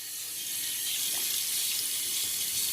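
Water runs steadily from a tap while a shaving brush is wetted, a continuous hissing stream with a small splash shift, close and fairly quiet, with no talk.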